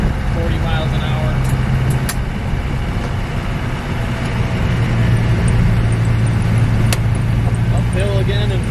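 A 1990 Land Rover Defender 110 with the 200tdi diesel climbs a hill in fourth gear, its engine droning steadily and loud from inside the cab, with a low rumble and faint rattles throughout.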